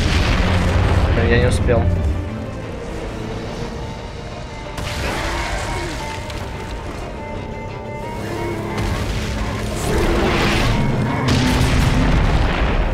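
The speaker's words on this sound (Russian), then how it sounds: "он сейчас эту пушку зарядит." Cannon fire and heavy explosions in Darksiders II, loud booming impacts with crashing debris, several blasts spread across the stretch under a man's speech.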